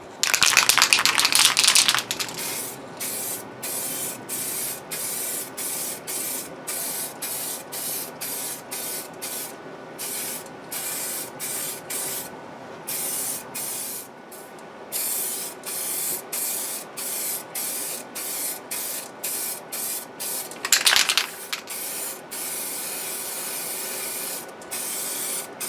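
Primer sprays onto a headless guitar body in a long series of short hissing bursts with brief gaps between them, close and steady, with one longer heavier blast near the start and another toward the end.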